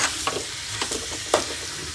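Milk-based carrot halwa cooks in a pan with a constant bubbling sizzle while a spoon scrapes and stirs in several distinct strokes, close up.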